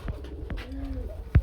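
Pigeons of the Luton breed, an Indian and a local pair, cooing softly in a few low, drawn-out coos, close by with faint background noise.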